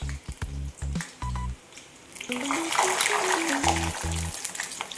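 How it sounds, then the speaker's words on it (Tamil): Karasev dough is pressed into hot oil over a medium flame, setting off a rising sizzle and bubbling after a few knocks and taps, with the frying growing denser and continuing to the end. "எண்ணெய் நல்லா சூடாகிருக்கு மீடியம் ஃப்ளேமில் வச்சுக்கணும்"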